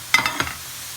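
Egg noodles dropped into very hot oil give a quick crackling sizzle, two or three sharp bursts close by that fade within a second.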